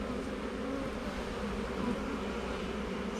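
Honeybees returning from foraging hum steadily around an open hive during an inspection, a dense, continuous drone at moderate level with no breaks over a few seconds.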